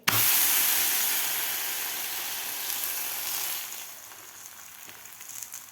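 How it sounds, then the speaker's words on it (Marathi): Spinach thalipeeth flatbread frying on a hot griddle, a loud steady sizzle that starts sharply and slowly eases to a softer hiss, with no talking. "आता दुसरं सुद्धा आपल्याला थापून घेतलेलं थालीपीठ तव्यावर घालायचं आहे"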